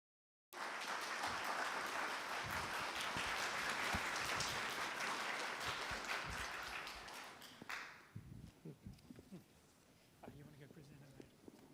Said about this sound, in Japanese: 大きな拍手で。